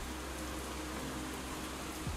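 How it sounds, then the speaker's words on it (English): A rain ambience sound effect plays as a steady, dense hiss of falling rain, continuous and even, with no voices over it. "Sounds like rain"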